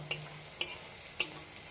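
Three sharp clicks of a utensil stirring chow mein ingredients with turmeric powder in a pan, spaced evenly about half a second apart, over a faint low sizzle.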